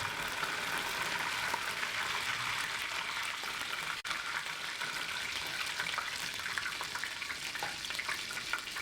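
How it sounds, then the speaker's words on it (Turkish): Soft, continuous sizzling and crackling of potatoes frying in oil, fairly quiet and steady, with no voices. "patates kızartıyor"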